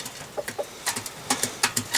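Soft clucks and short chirpy calls from chickens eating, scattered and irregular, with faint pecking and rustling in a quiet outdoor setting.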